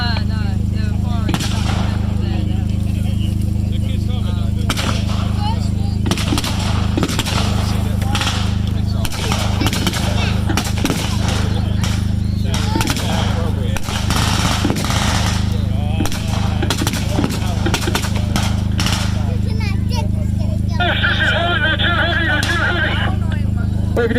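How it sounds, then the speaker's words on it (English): Big naval cannon firing at a WW2 re-enactment military show, heard as repeated sharp booming blasts scattered through a constant low drone, with voices talking over the scene. "They're firing the big naval cannon."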